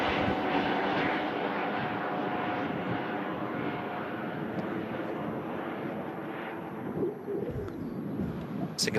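A Lufthansa Airbus A380 jet departs toward Munich from Manchester Airport, a steady broad engine roar heard from a distance with birds cooing nearby and no talk.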